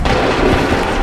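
A musket volley in the video game Assassin's Creed 3 erupts as one dense, loud, rumbling blast that fills the whole short moment.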